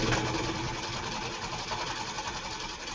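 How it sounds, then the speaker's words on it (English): Sewing machine stitching quilt fabric, a steady, fast mechanical whir and rapid needle clatter running continuously at moderate loudness with no talking. "fold it over, and sew from the top down"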